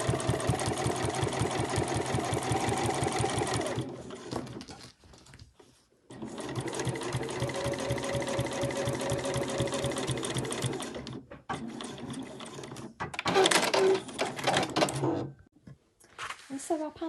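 A domestic sewing machine stitches across a fabric panel for a sewing machine cover, running in steady motor bursts broken by short pauses, with a voice talking over parts of it.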